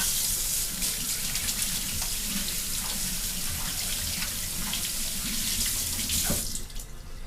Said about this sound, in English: and wash my hands real quick.